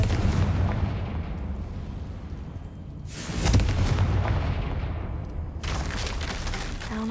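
A Confringo fire spell explodes in Hogwarts Legacy: a loud, rumbling blast bursts out mid-clip over a dense, low roar of combat, and a second burst hits near the end.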